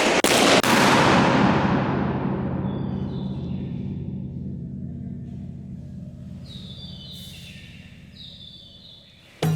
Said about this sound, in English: We recorded around 100 explosions in the chambers with our sound level meters.